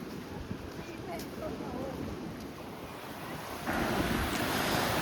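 Sea waves wash onto a clean sandy and rocky beach at Manori, heard as a continuous surf rush with wind buffeting the microphone, swelling louder toward the end.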